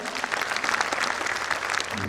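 A hall audience at a stage ceremony gives a warm round of dense, sustained clapping that fills the whole stretch evenly, with no voices standing out over the claps.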